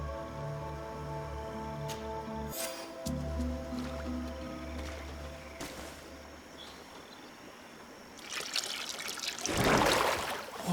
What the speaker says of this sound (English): That must be where we need to pour the potion.